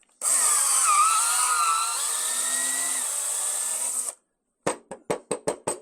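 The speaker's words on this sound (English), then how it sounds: "That hole's drilled now." A power drill bores a hole through a rubber-filled M10 x 1.0 turn signal lamp pipe, whining steadily and close for about four seconds, then stopping before a string of short, sharp knocks.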